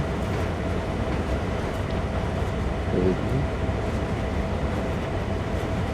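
A train rolling along in Train Sim World 3 during yard switching, a steady low rumble with a continuous mechanical drone that stays close and constant throughout, with no voices.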